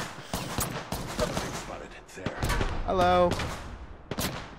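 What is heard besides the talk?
gunfire from the video game Apex Legends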